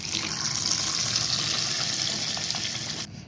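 Spinach and brinjal sambar tempering sizzles in hot oil with a steady, loud, broadband hiss that holds for about three seconds, then cuts off abruptly.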